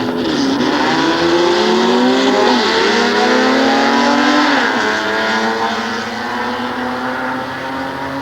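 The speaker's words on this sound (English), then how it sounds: "This is flathead inliner class coming out of this right now." Flathead inline class drag racing cars launching at a nostalgia drag race at Sears Point, their engines roaring loud and continuous with rising revs as they pull away, sustained over the whole stretch.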